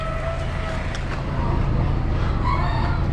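Brahma chickens in an Amish animal auction barn, a rooster crowing amid constant overlapping poultry noise, with the din swelling louder partway through.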